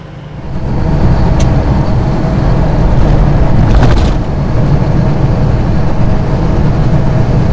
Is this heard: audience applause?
no